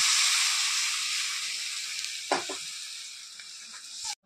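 Ground cumin, coriander, ginger, chilli and turmeric pastes sizzle loudly in hot oil for raw banana korma, a bright steady hiss that slowly eases, broken by a few stirring clatters and a final knock. No one talks.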